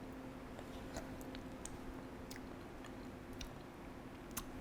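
Chewing and biting on a taste of cinnamon baked doughnut dough, soft close mouth sounds with small crunchy clicks repeating over a steady low background hum.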